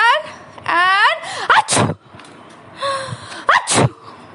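A voice imitates a monkey sneezing, with two dramatic sniffing gasps each followed by a sharp, loud 'achoo' burst, spoken up close with playful storytelling talk and squeaky character voices around them.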